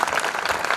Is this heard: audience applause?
yes